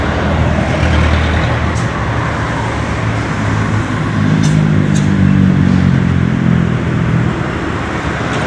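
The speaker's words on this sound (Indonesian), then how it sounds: "Nah, ini ada truk besar dari arah barat ke Jakarta." Big trucks roll past on the busy Pantura highway, a loud continuous low engine rumble and tyre roar that swells as heavy vehicles pass close by, with other traffic behind.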